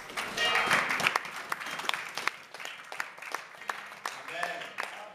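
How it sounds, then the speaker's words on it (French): A church congregation applauds and cheers loudly in praise of God, dense clapping with voices mixed in, swelling early then continuing in uneven bursts throughout. "on acclame très fort pour notre Dieu"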